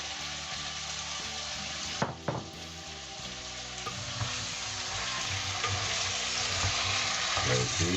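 Onion and paprika fry for a beef and potato tagine, giving a steady close sizzle with a couple of sharp clatters early on and a swelling hiss afterward, no voices over it.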